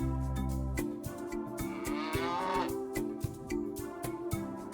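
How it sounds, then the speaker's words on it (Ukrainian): A cow moos in a long, low drawn-out call, close and loud, with a steady tonal rumble and a rising, wavering pitch in the middle. "корова мичить"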